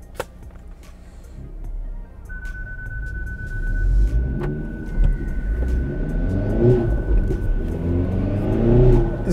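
A Hyundai i30N with a Stage-3 upgraded turbo accelerates from the inside, a steady rising engine rumble with a thin high turbo whine running through it, building louder toward the end.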